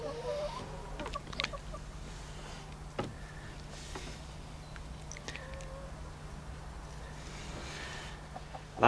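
Suburban backyard hens cluck softly, with a few scattered calls and light scratching, over a steady low background hum.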